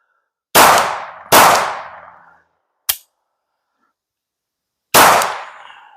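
A Glock 19 9mm pistol fitted with an LEO Precision Oden slide fires three loud, sharp shots, each ringing out, plus one shorter crack between them, with gaps of silence in between.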